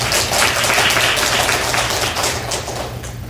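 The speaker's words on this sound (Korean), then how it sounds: "박수!" A room of listeners at a lecture applauds loudly and continuously, a dense hiss of many hands clapping at once, tapering off slightly at the end.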